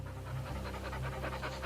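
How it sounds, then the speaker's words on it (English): A dog panting rapidly and steadily up close, a quick rhythmic huffing that fills the short moment on its own. "Okay, pardon the panting dog."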